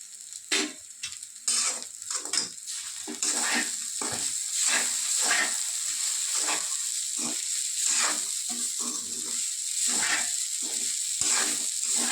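Poha stir-fried with softened onions and salt in a pan, steady sizzling under repeated rhythmic scrapes of a spoon stirring the flattened rice, close and clear.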